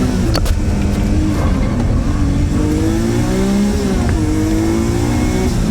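A Nissan GTR and a Mazda RX-7 FD race hard, their engines roaring loudly with rising pitch through gear changes, the revs climbing, dropping and climbing again up close.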